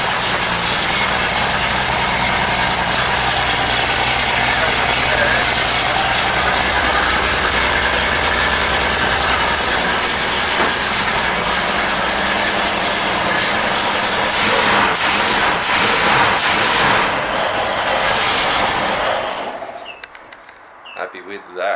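A gasser car engine fitted with a motorbike muffler idles steadily with a low, muffled exhaust rumble for about twenty seconds, then cuts off near the end.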